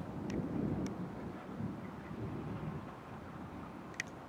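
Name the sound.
thunderclap during supercell storm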